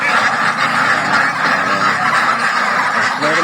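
Pekin ducks on a farm quacking in a dense, continuous chorus, close and loud, with overlapping calls throughout and no talking.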